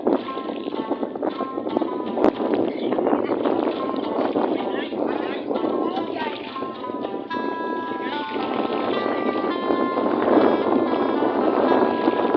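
Strong wind buffets the microphone aboard a small bangka out at sea in big waves, a constant rushing roar with thumps and knocks from the hull, while people talk and shout over it throughout.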